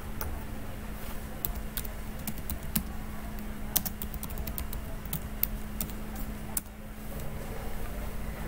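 Keyboard shortcuts are typed on a computer keyboard while working in Python on Ubuntu: quiet, scattered keystrokes and short clusters of clicks over a steady low background hum.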